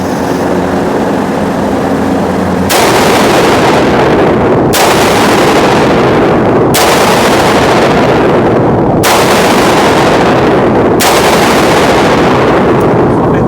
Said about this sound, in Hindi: और फ्लॉलेस परफॉर्मेंस था ऑफ दिस मैकफेयर प्रोटोटाइप शॉटगन